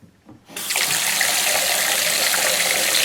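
Water rushes from a kitchen or bathroom sink as it is let out, starting abruptly after a brief quiet moment and then continuing as a loud, steady gushing flow.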